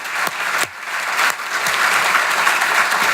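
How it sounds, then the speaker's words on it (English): An audience applauds an event MC at a wrap-up and close, with steady clapping that swells slightly and continues throughout. "so please give her a round of applause"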